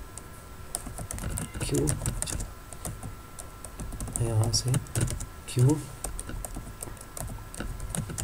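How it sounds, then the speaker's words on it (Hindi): Computer keyboard typing in Urdu, a run of uneven clicky keystrokes close by, mixed with a voice speaking over them. "सॉरी उर्दू टाइपिंग थोड़ी सी स्लो है मेरी"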